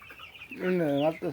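A tiger chicken on a farm gives a short, close cluck that rises into a drawn-out call, with a brief voice murmuring nearby.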